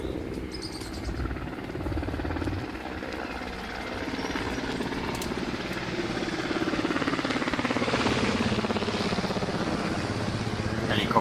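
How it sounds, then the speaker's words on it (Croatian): Helicopters flying over during military exercises, a continuous low rotor drone and rumble that swells slightly louder toward the end, heard outdoors with faint ambient noise. "Helikopteri."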